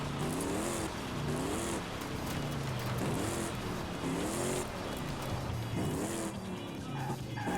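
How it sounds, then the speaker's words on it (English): In Forza Horizon 5, a Ford Mustang swapped to a Power Stroke diesel engine revs repeatedly. The loud engine note rises and falls in a steady rhythm of gear pulls with a constant roar and no voices. "I've never heard a diesel redline."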